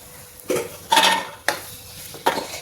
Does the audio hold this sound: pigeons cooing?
no